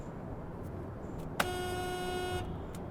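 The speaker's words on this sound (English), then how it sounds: "Love honking in tunnels." A single car horn blast sounds in a road tunnel on the Pacific Coast Highway, holding a steady, bright tone for about a second over the constant roar of the car moving through the tunnel.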